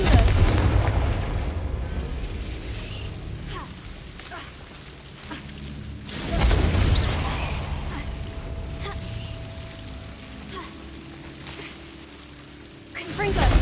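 A Confringo fire spell exploding in the Hogwarts Legacy video game, with deep booming blasts and rumbling bursts recurring at intervals over a continuous game soundscape, loud and close.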